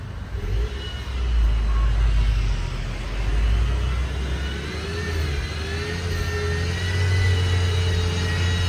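A 2024 Honda Civic RS fitted with a road-legal HKS bolt-on exhaust revs close by, several rising and falling pulls over a steady deep idle rumble, loud and continuous throughout.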